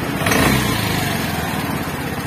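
A Vespa Matic scooter engine runs at high revs, giving a close, loud, steady buzzing drone with a slight swell near the start.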